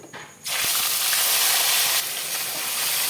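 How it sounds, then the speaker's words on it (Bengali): Chicken pieces go into hot mustard oil with bay leaf, dried red chili and whole garam masala, bursting into a loud, sustained sizzle that holds strong and eases slightly near the end. "ফোড়নটা লাল হয়ে গেছে দিলাম চিকেন"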